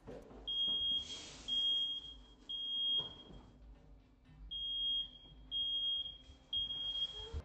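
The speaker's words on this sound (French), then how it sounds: "l'alarme incendie commence enfin à sonner" A smoke alarm sounds during a kitchen grease fire, giving a shrill, high-pitched beeping in repeated bursts with short gaps, fairly faint and thin against low background rumble.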